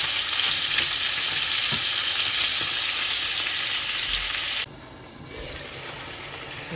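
Tomatoes sautéing for pinakbet in a pan give a loud, steady sizzle with faint stirring clicks, which drops suddenly to a quieter simmer near the end.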